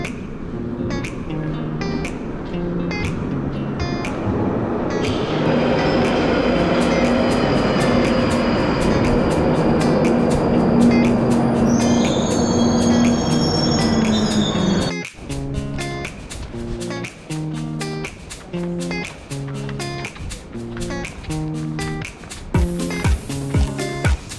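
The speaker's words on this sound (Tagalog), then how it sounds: "So daantay na kami ng tren. Ano, papalapit na." A train in London rumbles closer, its roar building and a high squeal rising, then the wheels clack rhythmically over the rails as the cars pass nearby.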